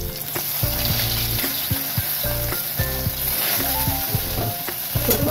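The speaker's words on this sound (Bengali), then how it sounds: "অল্প তেলে যেহেতু ভাজছি তখন কাজ করে করে কড়াইটা ঘুরিয়ে ঘুরিয়ে ভাজবে" Small puti fish fry in a little oil in a wok, a steady close sizzle with the pan being turned and stirred, scraping clinks and knocks over the crackle and no voices.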